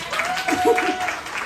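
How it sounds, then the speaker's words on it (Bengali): Audience applause at a 35th wedding anniversary celebration in New York, a short burst of steady clapping with voices speaking over it. "আর একটু জোরে হাততালি দিলে মনে হয় ওনারা আসবে"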